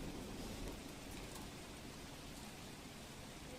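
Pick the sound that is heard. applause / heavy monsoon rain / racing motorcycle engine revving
heavy monsoon rain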